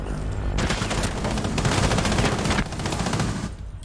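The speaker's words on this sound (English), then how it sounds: "Does see the Maestro, but misses the head on him. Can't control the recoil." Gunfire in a competitive Rainbow Six Siege-style match, a dense automatic burst with loud recoil-heavy spraying that runs steadily through most of the stretch, with no talk over it.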